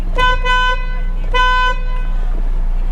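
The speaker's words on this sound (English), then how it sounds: "As you can tell, the horn's not supposed to sound like that" A faulty car horn on a Ford Edge honks twice in short, loud, buzzy blasts, each under a second, with a steady low hum continuing underneath between and after the toots.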